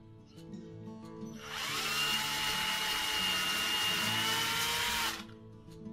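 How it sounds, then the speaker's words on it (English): A power drill whirs loudly for a few seconds as it bores a hole, starting and stopping sharply against a quiet background. "Let me drill a hole down here."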